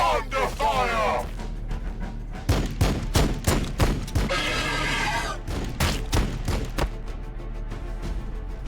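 Gunfire crackles in Warhammer 40,000 Battlesector, a run of sharp, loud shots in irregular bursts over a rumbling battlefield, with voices calling out among the blasts.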